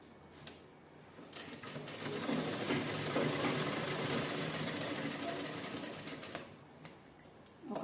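Sewing machine stitching a canvas strip onto a princess blouse neckline, one steady run of several seconds with a soft whirring rattle, fairly faint, with small handling clicks at either end.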